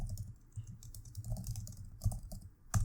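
Soft, fairly quiet keyboard typing while entering a name in an online Amazon seller registration form, a steady patter of light clicks with a few louder taps over a faint hum.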